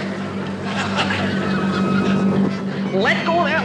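A motorboat engine droning steadily nearby, with people arguing and shouting over it.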